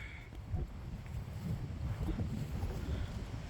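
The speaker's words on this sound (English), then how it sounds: "Kind of windy." Steady wind rumbling and buffeting outdoors during a car oil change, a continuous low whoosh with gusts swelling and easing, no voices.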